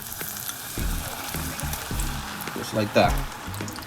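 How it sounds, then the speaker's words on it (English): Ravioli frying in hot oil, a crackling sizzle running steadily beneath a man's speech, with a brief louder burst of spattering near the end. "I got the oil already boiling here, already hot, so just throw the ravioli in"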